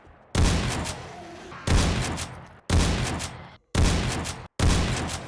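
Five heavy shotgun blasts in the video game 7 Days to Die, loud and close, each a sharp boom with a long decaying tail, fired about one second apart.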